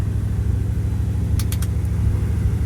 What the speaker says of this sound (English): I'm gonna let the truck warm up